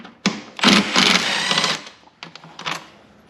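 A ratchet or power driver removes a 10mm bolt from a Jeep Wrangler air box in short bursts of rapid clicking whir, close up, with pauses between.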